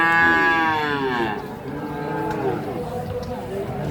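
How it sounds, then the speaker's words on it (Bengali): A four- to five-month-old Sahiwal bull calf moos loudly and close by, one long drawn-out call that falls in pitch and then trails into a lower, continuing bellow. "অরিজিনাল শাহিওয়াল দেখতে পারতেছেন ষাঁড় বাচ্চা।"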